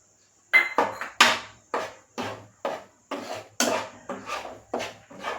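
Flour is stirred into a pan for sukhadi with a spoon that scrapes and knocks against the metal in about a dozen sharp, evenly spaced strokes, close and alone.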